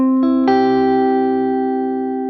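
An electric guitar strums a chord in two quick strokes, then lets it ring out with delay and reverb effects, the bright sustained tone slowly fading over about two seconds.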